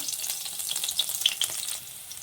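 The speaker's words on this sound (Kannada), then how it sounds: "ಅದೇ ಬಾಣಲಿಗೆ ಇವಾಗ 1 ಸ್ಪೂನ್ ಎಣ್ಣೆ ಹಾಕಿದ್ದೀನಿ. ಇವಾಗ ಒಂದೆರಡು ಮೆಣಸಿನ್ಕಾಯಿನ ಚಿಕ್ಕದಾಗಿ ಕಟ್ ಮಾಡ್ಕೊಂಡು ಹಾಕಿದ್ದೀನಿ." Chopped green chillies fry in a spoonful of oil in a pan, giving a soft, steady crackling sizzle close by with a few sharper pops, easing slightly toward the end.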